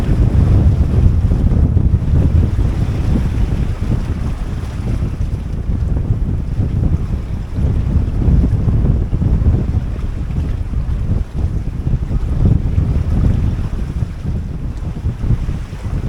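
Strong wind roars continuously across the microphone on a 21-foot sailboat at sea in building seas, mixed with rushing water and waves against the hull, loud and unbroken with no voices.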